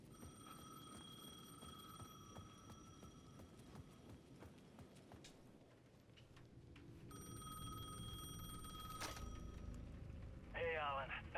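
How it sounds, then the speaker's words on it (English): A payphone rings at the edge of a plaza in the Alan Wake II video game, giving a short, bright burst of ringing near the end over a low, dark ambient hum and scattered clicks. "The payphone at the edge of the plaza was ringing again."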